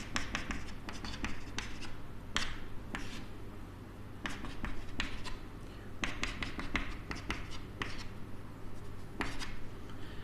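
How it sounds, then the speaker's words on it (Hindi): Scratchy strokes of writing on a board during a maths lecture on inverse trigonometric functions, with short irregular bursts of tapping and scraping over a steady low hum and no speech. "चलो मैं लिख देता हूं यार"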